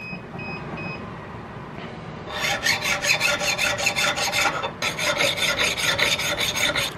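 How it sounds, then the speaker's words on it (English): A medium-fine flat file rasps across the top face of a muzzleloader butt plate in a steady run of close, rhythmic strokes, pausing briefly midway before resuming. "So I'll just take this nice kind of fine, you know, medium fineness flat file here and start working this top face"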